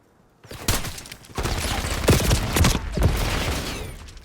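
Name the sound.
gunshots in the video game Black Ops 6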